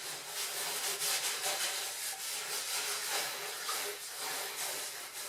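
Scrubbing inside a rabbit cage, done with no cleaning product: a steady, close, broadband rubbing and scraping that keeps going without a break, with faint irregular strokes and no voices.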